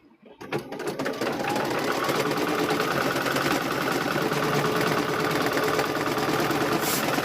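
Sewing machine stitching quilt squares, a fast steady mechanical whirr running continuously at close range after a short start.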